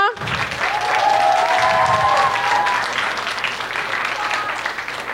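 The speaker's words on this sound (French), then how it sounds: "Une bonne main d'applaudissements." At a secondary-school talent show, a hall audience applauds loudly and steadily, the clapping swelling in the first seconds and then holding, with a few shouts and a whistle-like tone early on.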